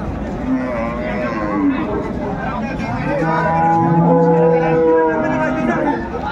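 Cows and calves at a busy village cattle market in Dinajpur, several long drawn-out moos overlapping near and mid-distance over steady crowd chatter, with people talking throughout.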